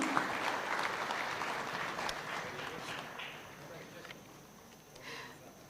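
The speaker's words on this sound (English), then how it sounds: "A round of applause, ladies and gentlemen." Applause from an audience at a Kenyan Taxpayers' Day awards ceremony, a broad, moderately faint patter of clapping that holds steady, then gradually thins and fades, with voices murmuring underneath.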